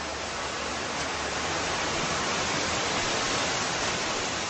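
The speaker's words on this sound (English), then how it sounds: "I can hear nothing but the peaceful sound of rushing water" A river rushes over stony shallows, a dense, steady roar that holds constant without a break and with no voices.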